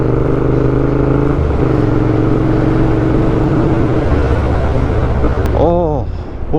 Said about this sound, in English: Little scrambler, little two-stroke by the looks of it.